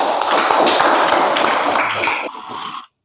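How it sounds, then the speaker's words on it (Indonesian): A classroom audience applauds a student named Habib, with dense, close clapping that holds steady for nearly three seconds and then stops abruptly. "Oke, aplaus dulu dong untuk Habib ya."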